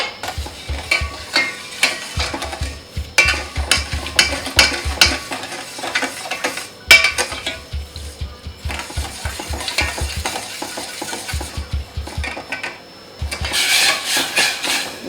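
A spoon stirs sugar and water in a pan over the flame for jalebi syrup, making repeated rhythmic scraping strokes close by that pause briefly now and then, with no voices.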